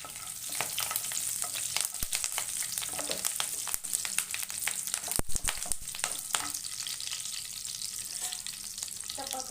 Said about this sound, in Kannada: ಈಗ ಕಾಯ್ತಾ ಇದೆ ಕಾಯಿಲಿ ಇವಾಗ ಒಂದು ಚೂರು ನಾನು ಕರ್ಬೇವಿನ ಸೊಪ್ಪು ಸೇರಿಸ್ತೀನಿ